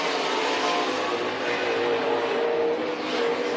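Sprint cars race around the backstretch of the dirt oval at Crawford County Speedway during a heat race, a dense, continuous high engine whine with shifting tones, distant and steady, with no voices.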